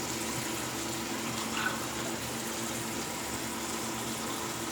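Water runs steadily from a tap to rinse a razor during a wet shave, a continuous even gush with no talk.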